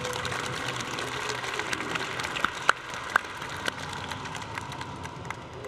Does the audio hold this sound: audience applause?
yes